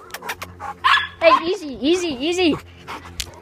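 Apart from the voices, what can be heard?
dog barking and panting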